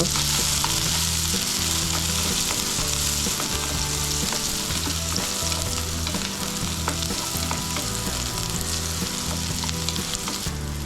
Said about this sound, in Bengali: একটি পাত্রে তেল পেঁয়াজ কুচি রসুন কুচি খালি করে কাটা কাঁচামরিচ দিয়ে দিব এগুলো কিছুক্ষণ ভেজে নেব